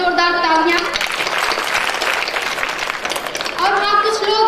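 Loud audience applause at an annual function, dense clapping rising through the middle and swelling, framed by a voice speaking over it at the start and end.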